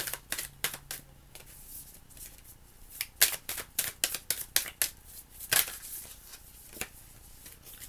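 Tarot soul cards shuffled by hand in a series of quick crisp riffles and flicks, close and fairly quiet, some bursts clustered together, with no talk.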